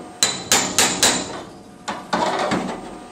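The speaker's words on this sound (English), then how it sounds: "I'm just going to get in there with the full chisel and a few" A hammer drives a chisel against a car door pillar in sharp, close metallic blows: four quick strikes, a pause, then three more, each with a short ringing decay.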